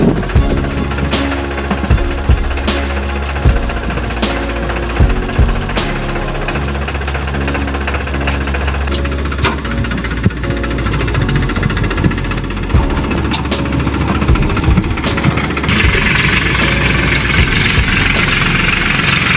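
A tractor engine runs close by before ploughing, a steady diesel knocking idle that chugs on without pause for the whole stretch.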